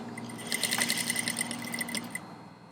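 An industrial sewing machine top stitches a corset, running in one close, steady burst of rapid mechanical clatter with a motor hum that stops near the end, and no one speaking.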